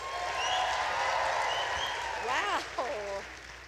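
Audience at a Just Plain Dance event applauding and cheering, a sustained wash of clapping and whoops, with a voice calling out over the crowd near the end.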